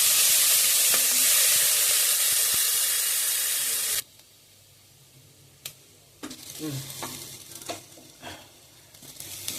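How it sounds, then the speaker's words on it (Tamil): Finely chopped onions fry in a pan for a dill-leaf dal. A loud, steady sizzling hiss fills the first few seconds, then drops to a quieter crackle broken by scraping stirs and spoon clinks. "கோல்டன் ப்ரௌனுக்கு கொஞ்சம் வறுக்கணும்."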